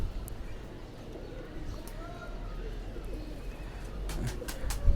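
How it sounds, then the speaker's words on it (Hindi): Ambersire pigeons coo softly in a loft setup, low, repeated calls under a steady background murmur, with a few sharp clicks and handling noises near the end. "अंबर सिरे कबूतर अभी हम आपको जो दिखा रहे हैं"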